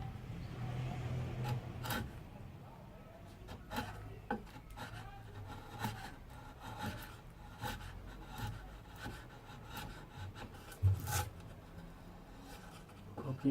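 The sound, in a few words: cutting and chamfering pallet wood by hand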